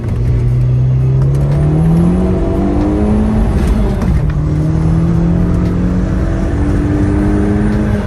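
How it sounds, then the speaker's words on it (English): An Audi TT accelerates hard in second gear from inside the car, its engine note climbing steadily in loud sustained rises with a brief dip at a shift, then pulling up again. "This is just like a second gear little pull."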